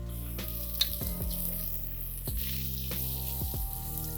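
Spices frying in a pot for spicy Nanded khichdi, a steady low sizzle with several sharp spoon taps and knocks against the pot, close and alone.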